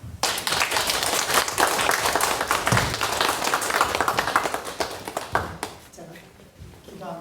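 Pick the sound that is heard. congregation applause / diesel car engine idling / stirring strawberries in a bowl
congregation applause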